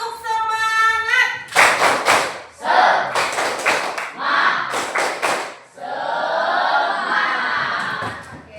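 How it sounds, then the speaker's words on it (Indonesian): Schoolchildren in a classroom perform a rhythmic spirit clap: after a brief spoken cue, sharp group claps land in tight bursts of several beats each, close and loud, before ending in a sustained excited cheer. "Tepuk semangat"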